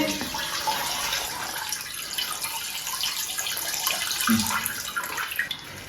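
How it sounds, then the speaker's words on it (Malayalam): Water being poured into milk in a pot for macaroni payasam, a steady, close splashing pour lasting several seconds without talking. "അപ്പൊ ഇതാ പാലിൽ കുറച്ച് വെള്ളം കൂടി ചേർത്തിട്ട് നമുക്ക് അടുപ്പിൽ വെക്കാം"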